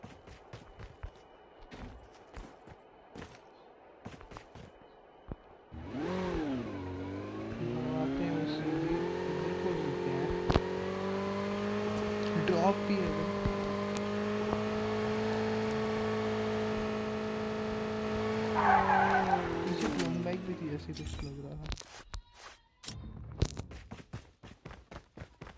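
A motorbike engine in the Call of Duty video game starts up and holds a steady droning rev as it is ridden, with pitch shifts and a sharp rise near the end before cutting out.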